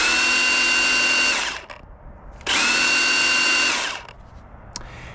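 A small chainsaw, handled one-handed, runs in two loud, steady bursts of about one and a half seconds each with a brief quiet gap between them, followed by a faint click.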